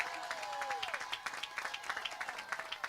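An audience at a credit union grand opening applauds with dense, steady clapping that sounds moderately distant, and a few faint voices rise through it.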